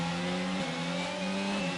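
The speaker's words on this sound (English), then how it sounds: "Just heard the revs going up and down the throttle there" A race car engine on a circuit in Hungary, revving up and down on the throttle in a steady droning tone that dips and rises slightly, with no talk.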